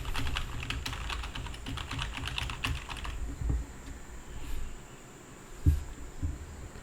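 Computer keyboard typing, clicky and fairly close, runs in quick irregular bursts for about three seconds, then gives way to quieter low rumbling handling noise with a single thump near the end.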